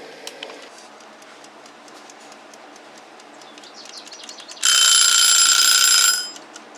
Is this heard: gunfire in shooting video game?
no